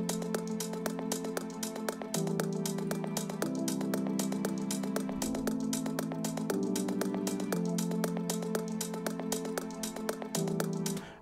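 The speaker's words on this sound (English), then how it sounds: "take the same chords and put them on some strings" Sustained orchestral string chords from a Kontakt sample library, changing every second or two in a steady loud progression, with low and high ends trimmed, playing alone without any voices.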